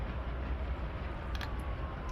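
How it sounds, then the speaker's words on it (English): A Dash 8 diesel locomotive hauls freight cars in a train simulator on a Miami to West Palm Beach run, giving a steady, close rolling rumble of engine and rail noise with a faint thin tone riding above it. "We're going to bring the throttle down so we don't speed."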